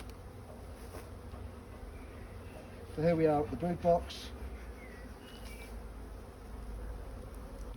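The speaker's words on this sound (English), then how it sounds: "Now there are quite a lot of bees in the air" Honey bees swarm in the air around an open hive's brood box during a spring inspection, smoke drifting over them; a steady low hum fills the background while someone talks briefly in the middle.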